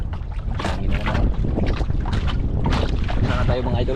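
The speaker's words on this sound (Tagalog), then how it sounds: "Hangin na naman." Wind gusting over open water near anchored American yachts, a steady broadband rush with buffeting bursts and microphone wind noise throughout, loud and close, with some voices mixed in.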